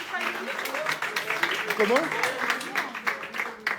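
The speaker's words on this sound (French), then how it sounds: "Et applaudissements." Applause from an audience during a live French show, a steady crackling wash of claps running under loud overlapping talk and laughter throughout.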